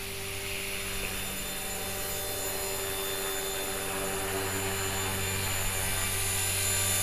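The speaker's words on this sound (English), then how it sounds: "just very quick test flight to see how we do with this helicopter" Continuous high-pitched whine of a small HK-450GT flybarless model helicopter's rotor and motor during a gentle test flight, steady and loud throughout, with no talking.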